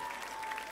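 Audience applause at a live concert in Lusciano, Italy: dense, steady clapping from a crowd, fairly loud and continuous through a brief burst.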